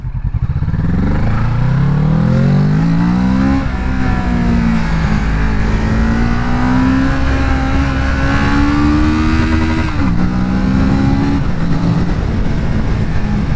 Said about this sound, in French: le bruit du bicylindre, personnellement, il me plaît pas énormément, parce que c'est un bicylindre en ligne